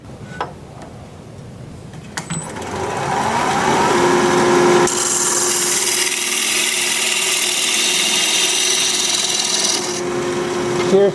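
A lathe tool shear-scrapes a spinning curly maple blank, a steady close scraping rasp that starts at moderate level and turns louder and brighter partway through, with a faint ticking and a constant low motor hum.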